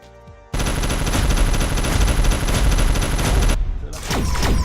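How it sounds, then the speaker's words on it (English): Beam cannon fired in the video game Hunt of the Reptorians: a loud, dense, continuous barrage of rapid-fire blasts lasting about three seconds, followed by a brief drop and more shots. "let's try this beam cannon for fun"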